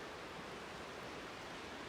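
River water running through rainforest as a continuous, even rushing wash, fairly loud and alone without talk.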